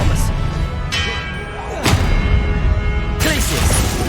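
Expelliarmus spell cast in Hogwarts Legacy, with several sharp magical bursts and impacts over a busy, loud game soundtrack, brief whooshing strikes recurring roughly every second or so.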